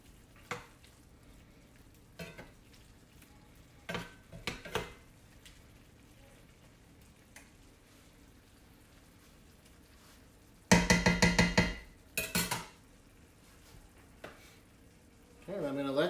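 Tomatoes with onions, mushrooms and garlic for marinara sauce cook in a pan, a faint sizzle broken by a few sharp stirring clatters of utensil against the pan.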